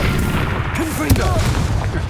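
A Confringo blast spell goes off in the video game Hogwarts Legacy: one short, sharp boom over busy game ambience and voice-like sounds.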